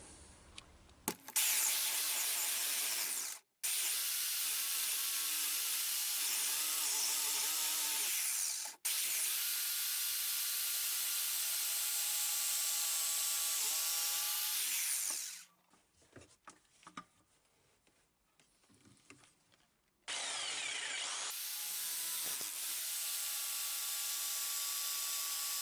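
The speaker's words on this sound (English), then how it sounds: "put the jigsaw in there and cut these out" A jigsaw cuts out pieces from wood in several loud sustained bursts with short pauses between, followed by quieter handling clatter and then another steady run of the saw.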